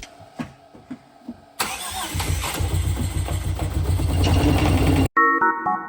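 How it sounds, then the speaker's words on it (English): A rebuilt Toyota engine cranks with a few uneven pulses, then catches and runs loud and rough with a steady low rumble before cutting off abruptly. "it is finally time to actually try and start my rebuilt engine"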